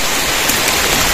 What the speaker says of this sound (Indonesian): Hujan lebat juga.